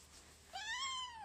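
A cat gives a single clear, rising-then-falling meow, close and fairly soft, in an otherwise quiet room.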